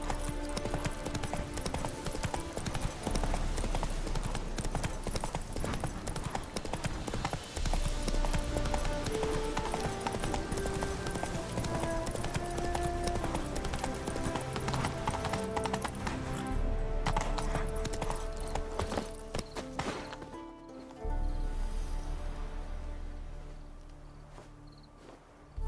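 The horse Roach trots in The Witcher video game, a steady rhythm of hoof clops under a dense bed of game music and ambient sound that thins out near the end, no talking.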